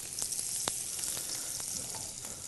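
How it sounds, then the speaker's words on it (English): Fingerling potatoes frying in oil in a pan, a steady close sizzle with occasional sharper pops and crackles, no voices. "We'll get the potatoes in the pan, and once again we'll season with a little kosher salt and some ground black pepper."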